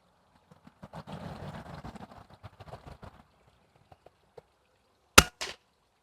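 Artemis P15 air rifle fires one sharp, loud shot with a brief trailing snap. Softer handling noise and clatter come first, with quiet gaps between.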